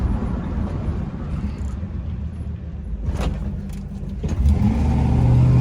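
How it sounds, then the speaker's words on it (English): A truck with freshly fitted brakes and wheel bearings rumbles along on a test drive, its engine droning steadily from inside the cab and rising as it accelerates toward the end. "we're gonna go test drive the truck"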